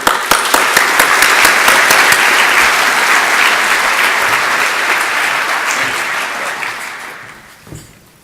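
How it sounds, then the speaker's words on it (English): Sustained audience applause at an agricultural outlook forum, a dense steady clapping that holds loud for several seconds and then tapers off toward the end, with no talking over it. "Let's all give Sam a quick applause."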